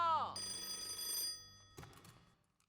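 A telephone bell rings briefly and close in a wartime drama scene, then fades out under quieter muffled sounds and a few soft knocks.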